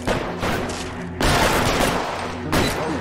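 Rapid bursts of gunfire from the L.A. Noire video game ring out loud and close in three dense volleys, with short gaps between them.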